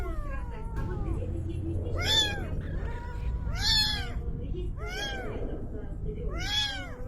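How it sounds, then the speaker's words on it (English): A cat in the video game Anarchy Online meows repeatedly, four or five bright, wavering calls spaced about a second and a half apart, loud against a constant low rumble of game ambience. "That's a funny looking cat."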